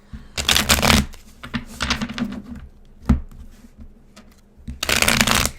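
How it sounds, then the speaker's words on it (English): Tarot cards being shuffled in several bursts of papery riffling and snapping, with short pauses and soft taps between them, close and fairly loud. "Let's see what we got going on with our cosmic tarot with this situation. Okay, same thing. I'm going to shuffle."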